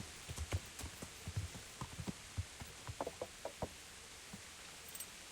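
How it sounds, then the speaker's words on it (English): Rain falls at a camp in the video game Kingdom Come: Deliverance, a faint steady hiss dotted with soft irregular drips and knocks, distant and low in level, with no talking. "here we are back at the camp in the rain."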